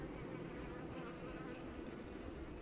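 Honey bees swarming around an open hive with fresh comb from citrus nectar, a dense continuous buzzing drone filling the space, close and steady with no voices.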